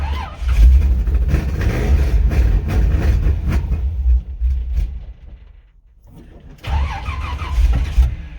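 A car engine cranks on a cold start with a weak battery, labouring and rumbling loudly up close, pausing briefly and then cranking again, with someone talking over it.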